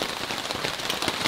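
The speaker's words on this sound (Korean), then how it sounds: "샤프에 떨어지는 빗소리가 정말 듣기 좋아요" Rain pattering steadily on a tarp over a backpacking campsite in a downpour, a dense continuous hiss of drops with small irregular taps throughout.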